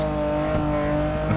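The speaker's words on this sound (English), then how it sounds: "This Aventador, bro. Backfire, 5 exhaust pipes. With the acceleration of the twin turbo-ski." Lamborghini Aventador engine in GTA 5 holding a steady, loud, droning rev with a strong tonal hum, alone with no voices over it.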